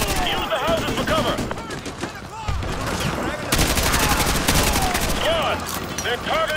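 Dense suppressing gunfire rattles through a Modern Warfare 2 Remastered urban firefight, with overlapping automatic bursts and shots running without pause, under loud shouted squad orders and battlefield chatter.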